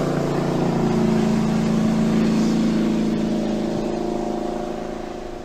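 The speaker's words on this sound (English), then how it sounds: "Our speedboat firefighter makes 4 passes to ensure the fire is out." A speedboat used as a makeshift firefighter makes repeated passes over a fire, its steady mid-pitched engine drone holding loud and close throughout, then easing slightly toward the end.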